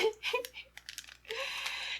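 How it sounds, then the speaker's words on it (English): A foil yeast packet is torn open by hand in a few crinkly rips and then a longer sustained tear, close and fairly quiet, with a voice briefly at the start. "It's the foil, it's an adult-resistant package. Foil packet that doesn't want to tear."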